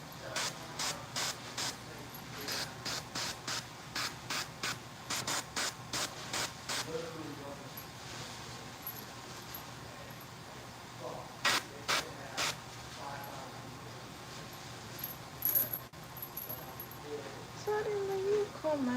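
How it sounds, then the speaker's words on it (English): Short bursts of spray paint hissing inside a Halloween haunt mask, a rapid series of regular blasts early on, then a few more isolated sprays later, with faint background sound between. "I meant to paint inside the hole and I just fucking sprayed it up the side of the mask"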